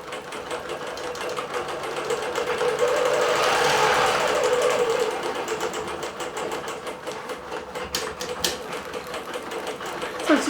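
A computerized quilting sewing machine stitches a row, a steady fast mechanical whir and rattle that swells in the middle and carries on alone, ending in a few clicks.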